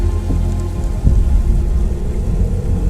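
Heavy rain pours steadily in an upcoming adventure video game, a dense, loud downpour with deep rumbling underneath like distant thunder and no voices.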